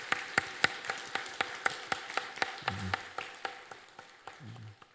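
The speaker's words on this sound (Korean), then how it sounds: "우리 박수로 한번 격려했으면 좋겠습니다" Church congregation applauding, sparse and rhythmic clapping with distinct individual claps at a steady pace, fairly quiet, with a low murmur of voices underneath.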